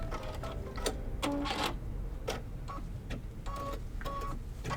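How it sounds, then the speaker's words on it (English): Embroidery machine tacking down a puffy foam print on a Christmas tree block, a steady mechanical whir broken by short bursts of rapid needle stitching and faint electronic beeps. "let it stitch out, tack down. It'll go around twice."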